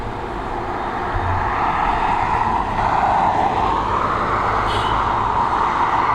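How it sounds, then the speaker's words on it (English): An Aer Lingus Airbus A330 in the 2019 livery at Dublin Airport produces a steady, broad jet roar that swells slightly and holds at a constant level throughout. "we've got this Airbus A330 with my favourite livery on it from the Aer Lingus liveries anyway"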